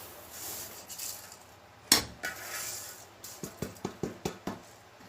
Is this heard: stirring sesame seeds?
yes